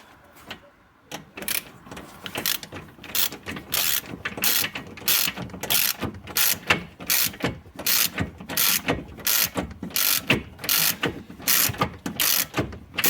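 A hand ratchet tightening bolts on the oil sump of an Alfa Romeo Stelvio 2.2 JTDm diesel, a loud, close run of rapid clicking bursts repeating in quick strokes, with no talking.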